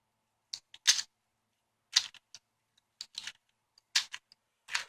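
A speed cube is turned in short bursts of sharp plastic clicking and clacking, with four or five quick clusters of turns separated by brief pauses, heard close and alone.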